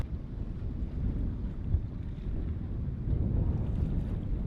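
Steady gusting wind buffets the microphone with a low rumble aboard an anchored sailboat, with faint water movement underneath and no talking.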